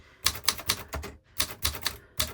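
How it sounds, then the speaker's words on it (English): Small typewriter struck hard, a close run of loud, sharp mechanical key clacks in uneven bursts with a brief pause midway, no voices. "It's a nice little typewriter."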